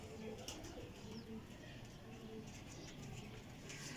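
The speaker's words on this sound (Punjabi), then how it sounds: "ਕਸੂਰੀ ਜਾਲਦਾਰ ਕਬੂਤਰ।" Kasuri pigeons with netted plumage coo softly in a loft, with low, faint, recurring murmurs under a busy background and distant voices.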